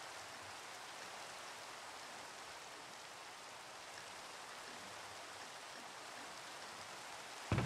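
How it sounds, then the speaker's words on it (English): Steady rain falls in Minecraft, a continuous, even hiss that holds for several seconds with a brief louder burst at the very end. "Well, it's raining."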